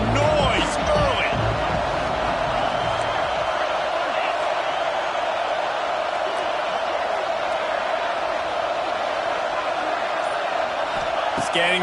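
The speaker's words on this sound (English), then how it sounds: "This crowd bringing the energy and noise early." Stadium crowd in the College Football 26 video game, a constant loud wash of cheering and noise that stays level throughout, with a bouncing sound near the start.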